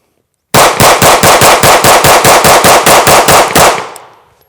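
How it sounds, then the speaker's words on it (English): Rapid string of seventeen shots from a Beretta APX Centurion pistol, loud close reports in quick regular succession with a trailing echo fading out after the last round. "17 rounds downrange, a little bit of a drift to the left"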